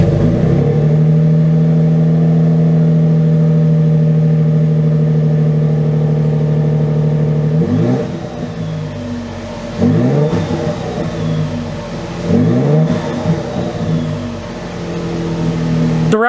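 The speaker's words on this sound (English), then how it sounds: "let's get a quick exhaust clip" A 2022 Toyota Tundra TRD Pro truck's exhaust rumbles at a steady idle, then blips through three sharp revs that rise and fall in quick succession, loud and close with no talking.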